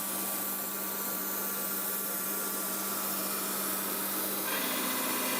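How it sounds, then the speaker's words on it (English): A crankshaft grinder working the crankshaft of a Ransomes MG 600cc petrol engine produces a steady hissing, abrasive grind over a constant motor hum, the texture shifting slightly near the end. "I'm winding the crankshaft slowly through it now to get to the side."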